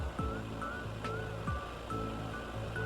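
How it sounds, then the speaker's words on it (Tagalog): River water rushing below a waterfall at a Philippine campsite, heard as a faint, continuous broadband wash with soft tonal sounds drifting over it. "Ito na po yung ilog."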